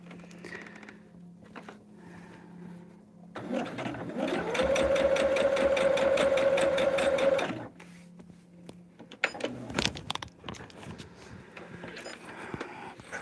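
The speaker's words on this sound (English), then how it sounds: "One last sew, and then we'll be ready to sew these corners down and then sew these 4 pieces together." Sewing machine stitching quilted table topper pieces, a steady fast whirring run of about four seconds after some quiet handling, followed by clicks and fabric rustle as the work is shifted.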